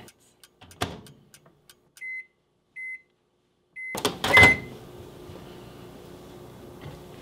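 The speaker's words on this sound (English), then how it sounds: "I am going to place it back into the microwave for another minute and 15 seconds this time" Keypad beeps and button taps lead into a microwave starting up to cook a mug cake, followed by a steady low electric hum as it runs.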